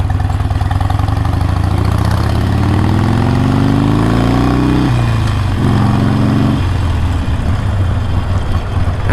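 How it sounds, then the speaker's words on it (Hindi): Harley-Davidson motorcycle engine idling close by: a loud, steady low rumble with a pitch that drifts slightly up and then settles, continuous throughout. "and it is a very smooth engine,"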